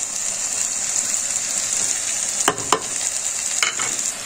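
Potato and sausage mixture seasoned with salt, garlic powder, curry and black pepper, stirred in a pan with a steady sizzle and a few scraping strokes of the spoon.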